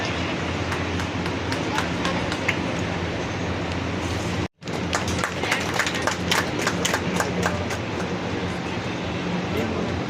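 Children and an audience clapping loudly to honor a guest at a school event, a dense, steady wall of applause that carries on throughout, briefly cut off once, with voices mixed underneath.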